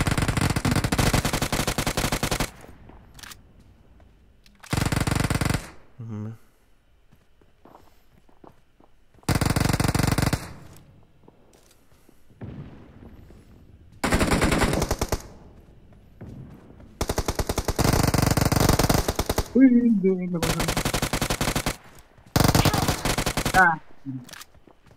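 Automatic machine gun fire in a video game shooter, several loud sustained bursts separated by pauses, with faint voices and game sounds in the gaps.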